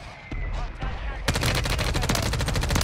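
Rapid bursts of gunfire in a shooter video game, a quieter stretch of scattered shots giving way to dense sustained automatic fire, loud and close, with player voices faintly mixed in.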